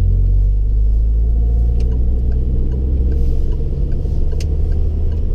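A car pulls away in second gear after the clutch comes up, a loud, steady engine rumble heard from inside the cabin with a few faint ticks, and no one speaking.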